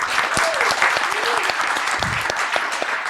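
Sustained audience clapping at a 2000 AD convention panel at Thought Bubble, a loud, even roar of many hands with faint voices and a brief whistle-like tone threaded through.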